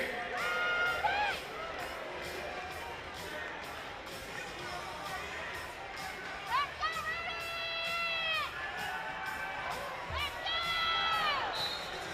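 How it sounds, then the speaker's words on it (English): A football crowd at an arena game cheers for the Oceanside Bombers quarterback, with a broad roar of shouting and whoops rising and falling over about twelve seconds, children's voices and chatter mixed in. "It's time to cheer on your quarterback for the Bombers"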